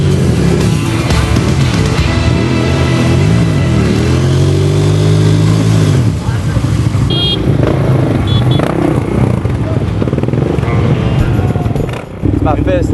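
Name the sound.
990 enduro motorcycle engine revving through rocks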